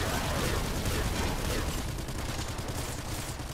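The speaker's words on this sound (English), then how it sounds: "Kraken disperse gun." Rapid fire from the Kraken disperse gun in Nuclear Throne, a dense, continuous burst of overlapping shots and splashy blasts that fills the whole stretch at steady loudness.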